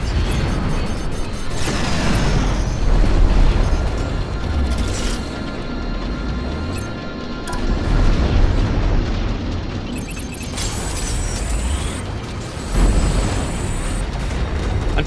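Explosions of ships blowing apart in the space combat game Strike Suit Zero, a series of loud booming bursts and crackling blasts repeating every few seconds over a dense rumbling battle din.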